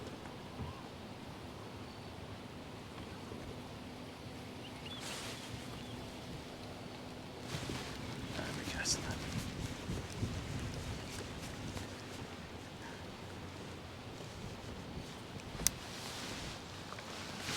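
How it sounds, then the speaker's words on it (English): Broadband wind rushes steadily across a microphone outdoors during a fishing session, with a few stronger gusts near the middle and a faint click, and no talk. "Stop it, wind."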